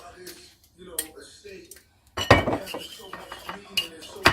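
Bacon burger patty mixture, with a spoonful of extra virgin olive oil, worked by hand in a bowl, giving soft clinks and utensil-on-dish knocks that grow louder and busier halfway through, with a few quiet voice sounds in the gaps.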